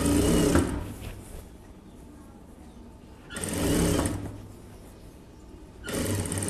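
A sewing machine stitches a chudithar top in three short, close bursts of whirring, separated by quiet pauses, with no talking.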